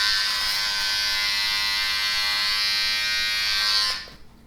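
Electric hair trimmer buzzing steadily at close range during a home haircut, a bright continuous whine held for about four seconds before it abruptly cuts off.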